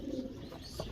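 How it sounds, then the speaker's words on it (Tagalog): Pigeon cooing at a breeder's loft, a low soft coo rising near the start with another brief coo toward the end, close by over a steady background murmur. "Ayan o, ang gandang ibon din ito."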